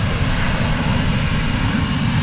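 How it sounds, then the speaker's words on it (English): An American Airlines Airbus A321 jet roars steadily on its takeoff run at DFW Airport, a loud, continuous broadband engine rumble with no voices over it. "Taking off now is American Flight 2177. It's an Airbus A321."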